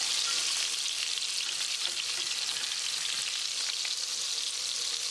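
Salmon steaks frying in a pan for a fish curry, giving off a bright, dense, steady sizzle that stays loud and even throughout as the pieces are turned.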